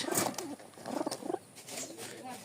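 Rajshahi Giribaz pigeons give soft, throaty, bubbling coos close by, in short irregular bursts that may blend with a voice.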